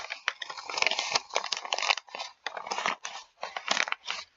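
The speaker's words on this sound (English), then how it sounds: "take a piece of paper and crumple it near the microphone" Close, loud paper crumpling near a microphone, used as a radio sound effect for footsteps in snow, in irregular crinkly bursts with brief pauses between them, no voices.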